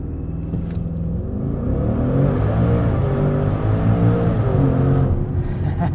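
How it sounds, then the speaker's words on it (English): A 2021 Maserati SUV on launch control, its engine holding a deep steady rumble as the turbos spool up with a rising whir, loud and close with no talking. "You hear the turbos spool up right before you let off the brake."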